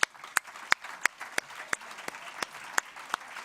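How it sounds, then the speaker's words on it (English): Sparse, spaced handclaps at a civic gathering welcoming the standing Brisbane delegation, a handful of sharp claps at a steady pace, fairly faint over a quiet room. "So why don't you all stand up so we can give you a round of applause"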